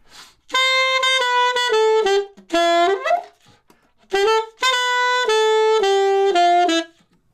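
A solo alto saxophone plays a melodic phrase from Fly Me to the Moon, sustained and short notes in two bursts separated by a brief pause, loud and close.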